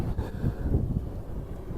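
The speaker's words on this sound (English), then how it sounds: "This would be brilliant without this wind." Strong outdoor wind buffets the microphone in a steady low roar with gusty surges throughout, while a drone is being flown in high winds; no talk is heard.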